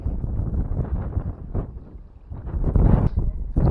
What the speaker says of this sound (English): Man, this wind.